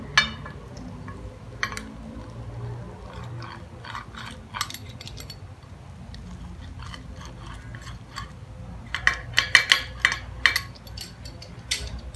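Knife and utensil scrapes and taps against a serving dish while a cheese-layered Spanish omelette is cut open, scattered clicks over a low background hum, with a denser cluster of sharp contacts near the end.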